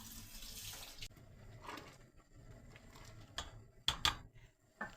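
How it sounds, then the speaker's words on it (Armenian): Running tap water splashes steadily as cold water fills a pot, with a few brief clinks and knocks of the pot near the end. "հիմա մի քիչ սառը ջուր լցնեմ, դնեմ գազօջախին եփելու"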